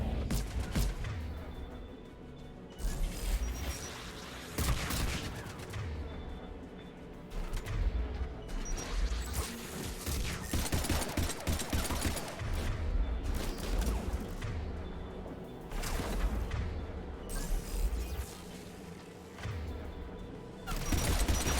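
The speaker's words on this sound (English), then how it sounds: "AA guns ahead of us." Anti-aircraft guns fire in the Mass Effect 3 video game as dense, sustained bursts of heavy gunfire with booming impacts. The barrage stays loud and nearly continuous for over twenty seconds, with only short dips between volleys.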